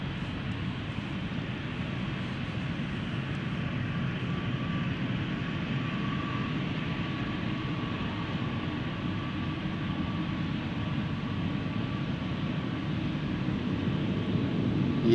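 A KLM airliner bound for Hamburg departs Schiphol, its jet engines a steady, broad distant roar that holds level and swells slightly toward the end, with no talk over it.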